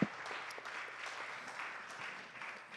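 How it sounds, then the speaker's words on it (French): Faint, distant applause from an audience at a public study presentation on ecological transition, a steady wash of scattered clapping at low level. "oui, on a le droit de l'applaudir"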